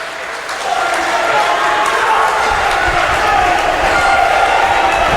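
A wrestling crowd at a PPW event roars with steady, dense cheering that swells after a quiet opening and holds loud throughout.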